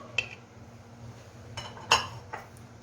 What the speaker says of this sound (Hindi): सबसे पहले मैं सारी वेजिटेबल्स को एक बोल में डाल देती हूँ।